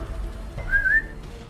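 Someone whistles a single short, slightly rising note, imitating the Houndmaster's whistle from Darkest Dungeon; the whistle is clear but brief, over a low background hum.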